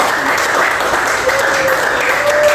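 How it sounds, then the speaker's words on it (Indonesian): A school class applauds a student, loud, continuous clapping filling the room at an even level, with a thin tone and faint voices beneath. "kasih tepuk tangan buat Abian."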